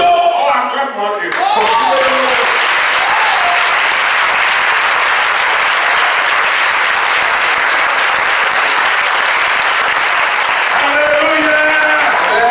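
Church congregation applauding at a Sunday service, dense and loud sustained clapping that rises abruptly and fills the whole stretch, with voices singing and calling out over it at the start and end.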